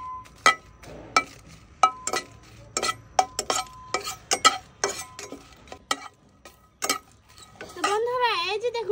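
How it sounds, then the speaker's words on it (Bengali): Dry red chillies roasted without oil in a pan, stirred with a spatula that taps and scrapes the metal in an irregular series of sharp, close clicks over a faint sizzle, with a voice briefly heard near the end. "শুকনো মরিচগুলো তেল ছাড়া ভেজে নেব, ভালোভাবে ভেজে নেব।"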